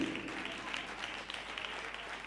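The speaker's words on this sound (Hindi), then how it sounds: "जोर से ताली देंगे।" Congregation applause at a Hindi-language church service, a faint continuous patter of many hands clapping, distant and low in level with no clear individual claps.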